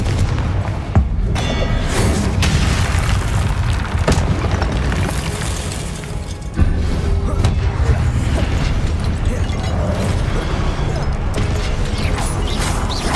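Confringo blasting curse explosions in Hogwarts Legacy, several loud booms and thuds over a dense rumbling battle din, with faint voices mixed in.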